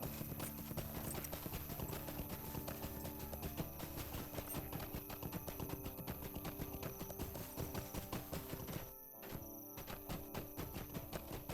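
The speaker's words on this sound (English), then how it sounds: "Let me get on my horse." A horse's hooves clop at a steady riding pace in Lord of the Rings Online, clear and rhythmic throughout with a brief dip near the end.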